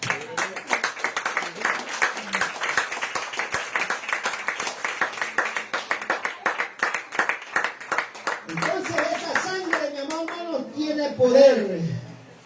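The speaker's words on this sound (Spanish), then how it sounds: "Denle aplausos al Señor." A church congregation claps along in a fast, steady rhythm at a Spanish-language worship service. The clapping runs for most of the clip, with voices and singing rising over it toward the end.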